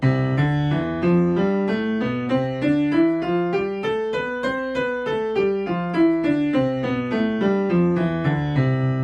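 Piano plays a flowing melody that rises and falls, with a much softer accompaniment in the lower register barely audible beneath it.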